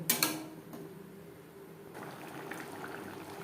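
Cauliflower curry gravy with spices bubbles softly in a pan, a gentle continuous simmer after a couple of sharp clinks at the start.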